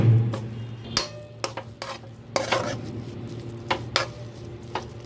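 A spoon stirs a semolina, coconut and cardamom modak mixture in a kadai, giving a steady scraping run with sharp knocks and clinks against the metal pan, close and clear with no talk.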